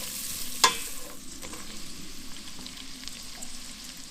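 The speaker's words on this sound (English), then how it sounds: "we're gonna put the onions in first. And let that sweat out a little bit." Onions sweat in a pan with bacon, a soft, steady sizzle heard close and fairly quiet, with a single sharp clink near the start and no talking.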